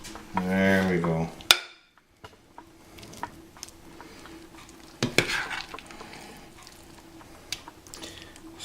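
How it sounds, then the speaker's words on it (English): Food is dished onto a plate with metal cutlery: a few scraping clinks and one sharp clatter near the middle, with quiet kitchen background between and a brief voice at the very start. "I'm dishing this out on a plate."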